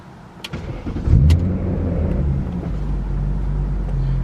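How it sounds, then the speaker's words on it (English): A 2000 BMW E39 M5 engine starts: a brief crank near one second, then a firm catch that settles into a steady, low idle, close by and clear with no talk. "You can start the car up."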